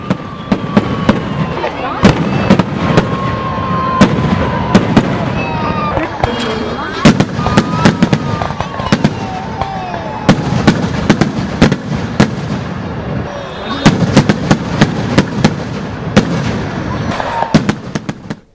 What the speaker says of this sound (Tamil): சிவகாசி நகரமே அதிரும் அளவுக்கு வான வேடிக்கை நிகழ்த்தப்பட்டது